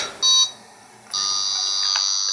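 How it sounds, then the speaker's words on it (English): A handheld Simon-clone electronic memory game sounds its harsh error buzz, a short bright tone followed by a longer sustained electronic buzz, close and alone. "if she ever messes up, then it creates quite a nasty little buzz sound."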